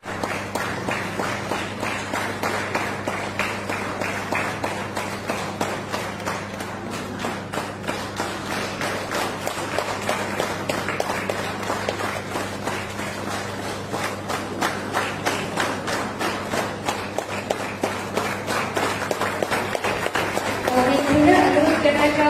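In a conference hall at the APCTA General Conference at JNC Pasighat, Arunachal Pradesh, an audience keeps up dense, sustained applause for over twenty seconds, with a steady crackle of many hands over a low hum.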